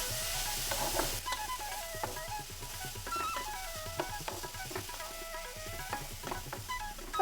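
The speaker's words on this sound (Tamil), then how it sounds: "இதில் துருவி வச்சுருக்க ஒரு கேரட் நல்லா ஸ்லோ ஃப்ளேமில் வச்சு வதக்கணுங்க." Grated carrot sautés in a pan over a slow flame with a steady soft sizzle and repeated scraping stirs, close and continuous without talk.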